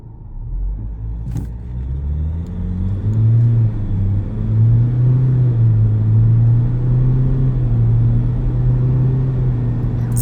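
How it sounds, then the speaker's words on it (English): A 2026 Ford Ranger XLT pulls away hard from a standstill, its engine rumble climbing steadily in pitch through the gears as the pickup gathers speed, loud and close, with no talking. "Let's launch it and see what it's like from a standstill."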